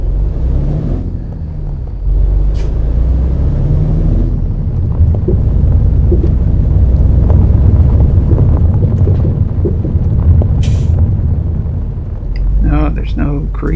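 A worn-out, freshly repaired truck drives in American Truck Simulator, giving a continuous low engine rumble with wind-like noise over a long stretch, and a voice briefly speaks near the end.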